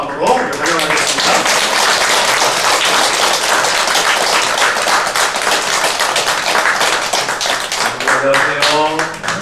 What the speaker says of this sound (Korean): 우리 큰 박수로 감사합니다 하는 마음으로 환영하겠습니다